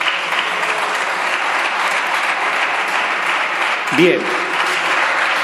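Applause fills a parliamentary chamber, steady and fairly loud throughout, while a voice speaks briefly over it near the end.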